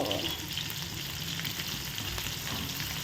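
Onions fry in a pan for a meat curry, giving a loud, dense, continuous sizzle up close that holds steady throughout, with faint stirring beneath.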